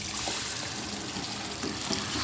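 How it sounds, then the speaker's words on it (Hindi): A cup of water is poured into peas cooking in a pan for matar keema, making a steady, soft, close pouring and trickling sound. "तो अब हम इसमें डाल देंगे 1 कप पानी।"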